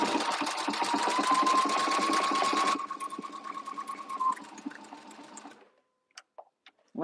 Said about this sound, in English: let's start sewing, friends. I'm pushing the button so it does the top of it now